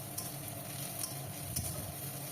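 Ginger-garlic paste sizzling with chopped, lightly golden onions in a pan, a steady close frying hiss with a few faint stirring scrapes.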